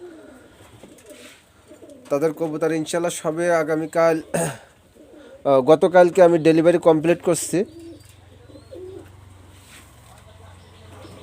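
Pigeons held by a Bangladeshi breeder coo in low tones beneath a man's speech, with softer cooing lingering after he stops talking.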